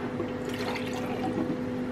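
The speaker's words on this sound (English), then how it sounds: "So in a jar, I'm going to put a half cup of water" Half a cup of water poured into a jar for a salad dressing, a close steady trickling and splashing with a ringing hollow tone from the filling jar, alone without talk.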